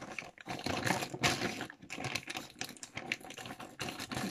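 Crinkly rustling and tearing of a large AliExpress parcel's plastic packaging being opened, close and fairly loud, with dense irregular crackles throughout and no talking.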